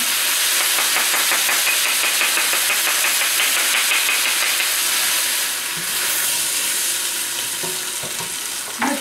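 Onions and lardons fry in a hot pot with beef and a spoonful of flour for a Provençal beef daube, a loud, steady sizzle and hiss with occasional stirring, close and uninterrupted, no voices.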